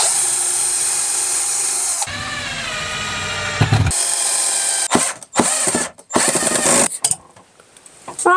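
Power drill boring a pilot hole for a screw into a bed frame, loud whining motor runs broken by stops, ratcheting clicks and brief restarts.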